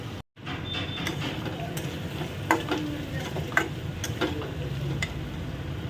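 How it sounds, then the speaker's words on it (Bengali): Potatoes with onion, ginger, garlic and chili fry in a pan with a steady low sizzle, and a spoon stirs them with occasional light taps and scrapes, fairly quiet throughout. "ভালো করে ভেজে নেব"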